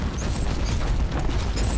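Dense, continuous rumble of explosions and bursting blasts from the Warhammer 40k Inquisitor Martyr video game, loud and steady throughout with sharp pops layered over a deep boom.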